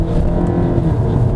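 Hard acceleration from a 300 hp Volkswagen Passat B8 with 4Motion all-wheel drive, heard from inside the car as a loud, steady engine roar with dense low rumble running the whole time and no talk over it.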